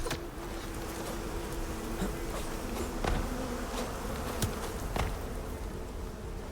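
Bees buzzing near two or three hives in a survival video game, a steady close insect drone with faint clicks and taps mixed in, no talk.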